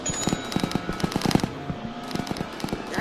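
Rapid bursts of video game gunfire rattle off in quick succession, loud and close, with a steady rhythm of sharp shots through the first half before thinning into scattered pops.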